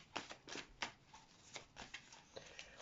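Tarot cards being shuffled by hand for a reading, soft riffling flicks in a quick irregular rhythm, close but quiet, without talk.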